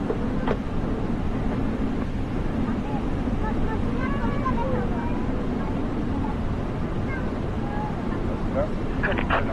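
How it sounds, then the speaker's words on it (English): An aircraft engine idles steadily just after start-up in a flight simulator at Oslo, giving a constant, even broadband rumble with no breaks, and a voice speaks faintly over it. "Engine 1 started."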